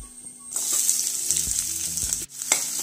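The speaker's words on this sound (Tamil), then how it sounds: "சின்ன வெங்காயம் லைட்டாக வதக்கி வர வரைக்கும் கிண்டி விட்டுட்டே இருக்கலாம்" Sliced shallots sizzle loudly in hot oil in a pan while a spoon stirs them, with soft scraping and knocking from the stirring over a constant frying hiss.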